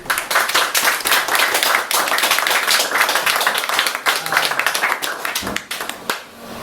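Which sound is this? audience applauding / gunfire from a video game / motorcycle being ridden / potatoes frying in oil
audience applauding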